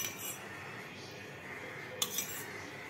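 A spoon stirs curd into cooled pearl millet porridge, a soft steady scraping with a couple of sharp metallic clinks against the vessel near the end.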